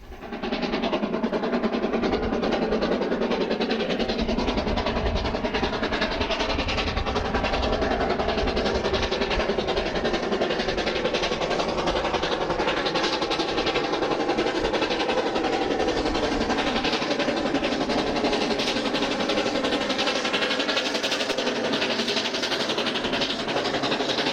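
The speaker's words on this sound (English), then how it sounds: "A treat for the passengers is a line-side opportunity to capture the train crossing Broken River Viaduct." Passenger train crossing Broken River Viaduct near Arthur's Pass in New Zealand's South Island, a steady loud rumble of wheels and engine with faint rhythmic clatter that holds throughout with no voices.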